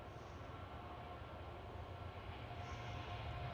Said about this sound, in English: Transavia 737 speeding down runway 24.